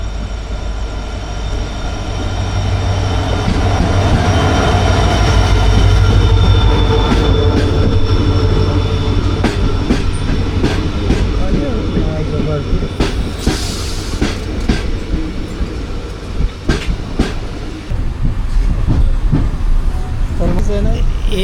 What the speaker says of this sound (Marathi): तुतारी एक्सप्रेस आता आरवली रेल्वे स्टेशनला आले आणि आपल्या गाडीला आहे ना रत्नागिरी पॅसेंजरला इथेही क्रॉस करणार आहे